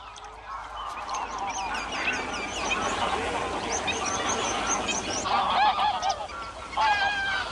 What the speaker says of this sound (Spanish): donde ahora el ganso gris se alimenta con el rizoma de la castañuela